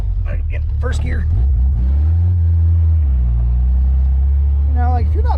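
A car engine labours in first gear climbing a steep slope, a loud steady low rumble that holds throughout while someone talks over it.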